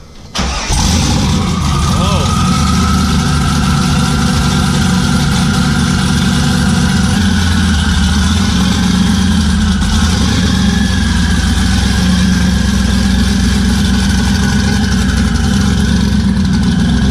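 A car engine named Leroy cranks and catches, then settles into a steady, loud, close idle for the rest of the time.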